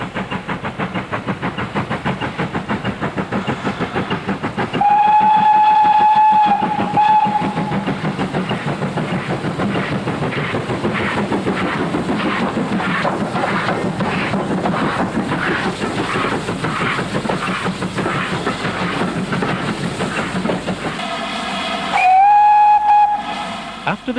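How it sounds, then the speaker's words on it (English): Steam locomotive 4277, a 2-8-0 tank engine, labours up a 1 in 49 grade with rhythmic, loud chuffing throughout, and two sharp steam whistle blasts ring out, one early and one near the end. "4277 makes its final approach towards Goathland, still on the 1 in 49 grade"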